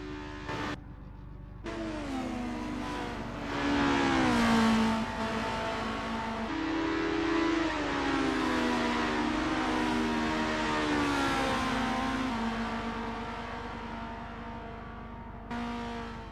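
Formula race cars lapping the Kyalami circuit in the racing game Assetto Corsa, engines whining loudly and continuously with pitch sweeping up and down through gear changes as cars pass close by.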